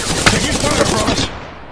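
Gunfire in the video game Apex Legends rattles in a fast, loud burst of shots for about a second, then cuts off.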